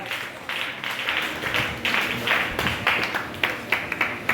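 A church congregation applauds the Word of the Lord during a fasting and prayer service, with dense, steady clapping from a crowd that keeps a lively, slightly uneven rhythm throughout.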